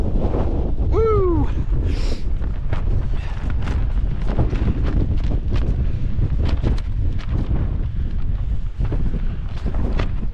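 Strong, steady wind roars into the microphone at night in the Lake District throughout, with gusty buffeting and a brief whistling tone early on.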